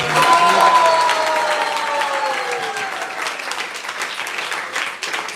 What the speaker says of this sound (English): Please welcome them, give them a big round of applause